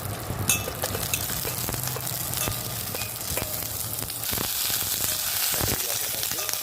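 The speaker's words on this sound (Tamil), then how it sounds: "கருவேப்பிலையும் கடுகும் போட்டாச்சு எல்லாம் போடும் நல்லா பச்சை மிளகாவும் போட்டாச்சு அதுவும் லைட்டாக வதக்கிடுவோம்" Green chilies, mustard seeds and curry leaves fry in hot oil with a steady crackling sizzle, broken by scattered pops and utensil clinks, heard up close.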